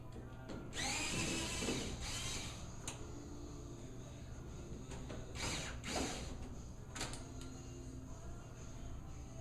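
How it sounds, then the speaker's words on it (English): A power drill drives out screws on a 1967-68 Ford Mustang Fastback door, heard as several short whirring bursts separated by pauses, quiet and fairly close, with a faint background hum. "Remove the screws."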